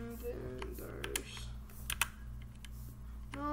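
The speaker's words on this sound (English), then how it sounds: "if you press the whole keyboard, light up everywhere" Keys pressed on a DIERYA gaming keyboard, a handful of sharp, irregular clicks over a steady low electrical hum, fairly quiet and close.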